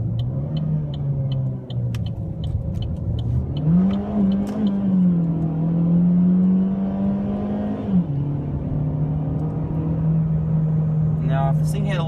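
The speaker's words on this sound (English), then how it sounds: "I'm just gonna rev the hell out of it." A 2014 Chevy Sonic LT rental car's engine revs hard and steady through downshifts, its note climbing, holding high, then dropping back to a loud drone, with the car's interior rumble underneath throughout.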